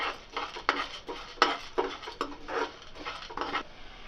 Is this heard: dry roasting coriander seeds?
yes